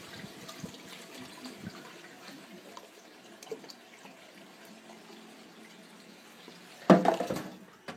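Water is poured into a pan of lasagna with eggplant and white sauce, a short splashing gush near the end after a quiet stretch of faint kitchen noise.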